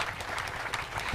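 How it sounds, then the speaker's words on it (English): Conference audience applause, a short dense burst of many hands clapping in a hall, fairly even and continuous throughout. "We can give the panel a round of applause."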